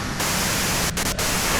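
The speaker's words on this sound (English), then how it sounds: "you can do it through the white noise." Dense hiss of white noise static from the video game Disco Elysium, a steady loud wash with two brief dropouts near the end, no voices over it.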